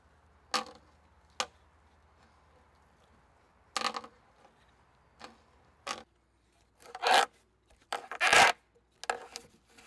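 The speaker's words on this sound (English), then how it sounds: "The sharp blade of the drill bit easily cuts the fibers and makes a perfect round hole in this freshly hewn timber." Separate bursts of rasping, scraping strokes, each short and sharp, growing longer and denser toward the end, as a Viking Age hand drill bores into freshly hewn timber.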